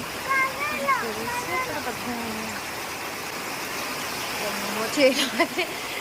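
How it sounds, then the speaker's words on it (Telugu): Floodwater rushes over a breached field embankment during heavy rain in a flooded village. A steady broad roar runs throughout, with a voice talking over it near the start and end. "తెగేసి పొర్లుకుంటే వెళ్ళిపోతున్నాయండి నీళ్ళు"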